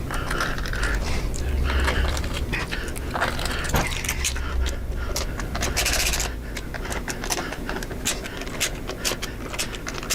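Screws being driven into a motorcycle air cleaner breather cover during a Tab Zombie Breath intake install, giving dense, continuous ratcheting and clicking mechanical noise close up, with scattered metallic scrapes throughout.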